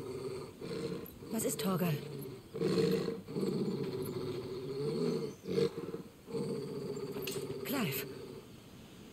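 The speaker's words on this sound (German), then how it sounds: "Wenn ein Hund so knurrt," Dog growling in the Final Fantasy XVI game: low rumbling growls in long bursts, loud and near, while people talk over it.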